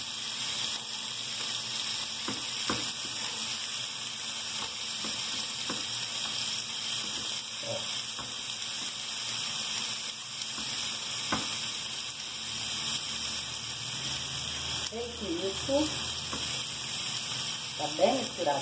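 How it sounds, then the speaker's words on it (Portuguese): A grilled-meat cheese purée is stirred in a pan, soft scraping and clicking of a utensil over a steady background hiss, with a few sharper knocks later and a voice briefly heard. "Vou misturar. Será bem misturadinho."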